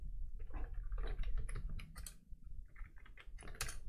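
Rapid, uneven keystrokes on a computer keyboard during a live web-coding session, a steady clatter of close clicks with no talking over it.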